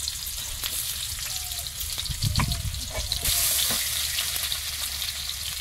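Chopped onion fries in hot oil in a pan, giving a steady, close sizzle throughout with a few light clatters and stirring sounds partway through.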